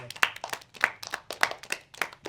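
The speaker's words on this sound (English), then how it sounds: "I think we should give them a round of applause." Primary school pupils clap for a film crew, a sparse, loose scattering of individual sharp claps in an uneven rhythm, close and fairly quiet.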